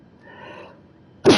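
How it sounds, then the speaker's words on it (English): A single sudden sneeze erupts close to the microphone at the very end, loud and explosive after a stretch of quiet with faint tonal background sound. "Excuse me, sneezing."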